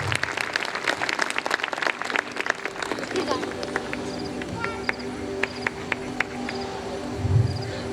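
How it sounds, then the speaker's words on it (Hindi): A church congregation at a live worship service claps loudly and steadily in a dense, continuous burst that thins out over several seconds, with a speaking voice underneath. "जोरदार ताली बजाएंगे सब।"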